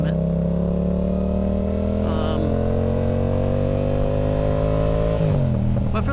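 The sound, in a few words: motorcycle riding on the highway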